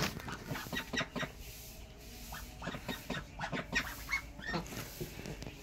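A small flock of about fifteen Pekin ducks raised for meat quacks and chatters close by in repeated short bursts, with fowl clucking mixed in.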